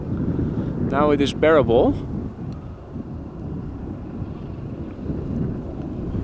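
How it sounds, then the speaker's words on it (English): Wind gusts across the microphone at Amsterdam Schiphol Airport, a constant rough rumble that rises and falls, with a voice speaking briefly near the start. "it looks like the wind has picked up a little bit"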